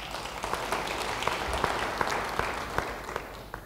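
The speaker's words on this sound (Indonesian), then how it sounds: "Beri tepuk tangan bagi dia." A church congregation claps steadily during a sermon, a moderate wash of applause with scattered sharper claps throughout.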